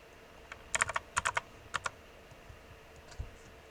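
A computer keyboard clicks through the ipconfig renew command in short bursts of quick keystrokes, close and crisp, followed by a single final key tap after a pause, with no talking.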